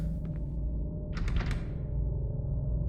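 A locked door in a hospital horror video game rattles with a brief clunk as it is tried, over a steady low ambient hum.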